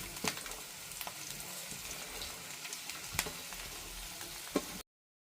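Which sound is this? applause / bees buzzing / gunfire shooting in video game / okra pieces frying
okra pieces frying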